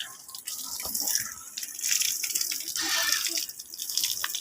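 Cool water runs and splashes at an Assamese namghar prayer house, a steady hissing flow with drips and splashes, close and fairly loud, without talk.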